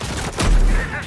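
An M870 shotgun fires in the video game Modern Warfare II, giving one loud, booming blast that hits about midway through the short stretch and rings out over a low background.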